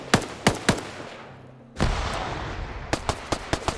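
Video game gunfire in a competitive match, three sharp shots at the start, a heavy blast after a short pause, then a quick string of five evenly spaced shots, loud and close.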